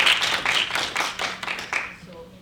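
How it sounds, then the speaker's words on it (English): A small audience at an evening talk clapping in a short, fairly close burst of distinct claps that thins out and fades after about two seconds. "Please clap for these people over here"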